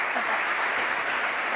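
A crowd at a Catholic book fair talk applauds loudly and continuously, a thick steady roar of clapping hands close by for the whole moment.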